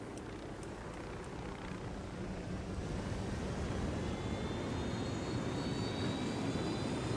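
Helicopter engine roar from the video game Ghost Recon Wildlands, a steady rumbling wash that gradually grows louder, with a faint rising whine near the end and no voices.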